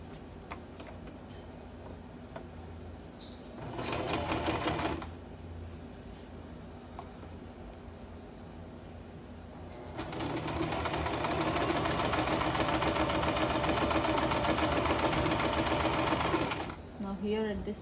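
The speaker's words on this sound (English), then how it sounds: "we are going to stitch this, leaving an inch opening" A sewing machine stitches a seam on a fabric face mask. It runs in short rattling bursts and then in one long steady whir, close and loud, with a voice talking between the bursts.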